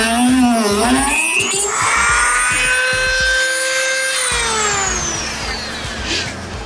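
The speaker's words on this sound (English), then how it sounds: "the window track bolt is fused and rusted, and I won't be able to get it out without grinding it out" A power grinder cuts out a fused, rusted window track bolt on a Porsche 914 door, a loud close whine that sweeps up and down in pitch as the tool loads and eases over several seconds.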